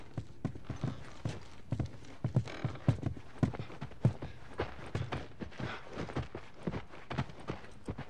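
Horse hooves clip-clopping at a steady walking rhythm in The Last of Us video game, quiet and unaccompanied, with no clear whinny.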